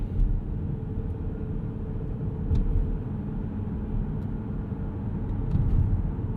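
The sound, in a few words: 2025 Mazda CX-50 Hybrid driving, engine kicking out of EV mode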